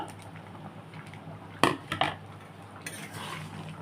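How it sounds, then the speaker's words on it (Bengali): Fried paneer goes into a pot of cooked dal and vegetables, heard as a few sharp spoon-on-metal clanks and soft wet plops over a quiet kitchen background. "এই যে এবারে আমি পনিরটা দিয়ে দিচ্ছি এর মধ্যে।"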